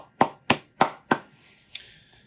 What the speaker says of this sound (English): We thank you and honor you with our applause.